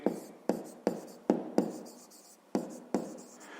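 A pen or chalk writes a fifth-grade maths solution by hand in short, sharp strokes, about eight distinct taps and scratches spaced unevenly, close and quiet with no talk.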